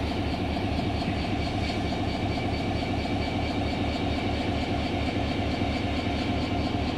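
Mehar Express passenger train pulling into Sanama station in foggy weather, a steady loud rumble of engine and rolling wagons with continuous rail noise throughout.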